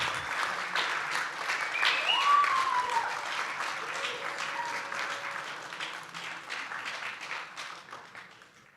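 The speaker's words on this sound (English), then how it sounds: "please join me in giving a round of applause for our finalists" Sustained audience applause for competition finalists at a technology cup opening ceremony, a dense, moderately distant patter of many hands that stays steady before easing off toward the end.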